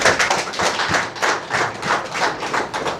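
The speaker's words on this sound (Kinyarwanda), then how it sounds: "mubahe amashyi buriya bwo murabashima" An audience at a civil wedding ceremony claps together in a loud, fast, rhythmic unison pattern close by, the beats pulsing evenly throughout.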